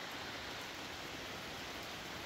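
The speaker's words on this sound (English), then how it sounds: "it's raining pretty hard right now" Heavy rain pours steadily onto a lean-to shelter at a campsite, a dense, unbroken hiss with no voices.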